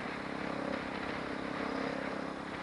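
A Yamaha Ténéré 250 motorcycle engine runs with a steady, even drone heard faintly from a distance. No voices are heard.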